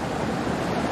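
Rushing water from the Splash Mountain ride's continuously recirculating flow, a dense, even roar close by with no break, heard alone.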